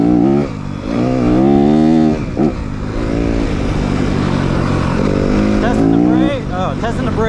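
Engine of a 2023 Yamaha 250FX dirt bike riding on trails, revving and shifting in pitch throughout, loud and close, with a rider's voice talking over it.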